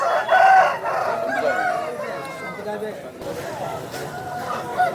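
A rooster crows loudly near the start at a rooster market in Vijayawada, with other birds clucking and people chattering in the background.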